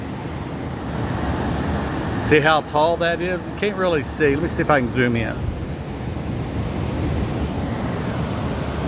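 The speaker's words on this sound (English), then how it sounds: "So when he opens this gate up, this water will start rushing in" Water rushes into a canal lock as the gate is opened, a steady broadband roar that runs throughout while a person talks over it for a few seconds.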